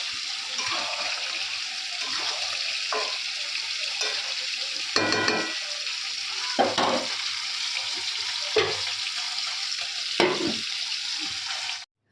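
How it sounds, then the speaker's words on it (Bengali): Chicken curry sautéing in a pan in a Bengali home kitchen, with a continuous loud sizzle and frying hiss broken by repeated bursts of stirring and scraping, and a little talk in the background. "আর একটু কষানো হোক তারপরে চিকেন মশলা দেবো"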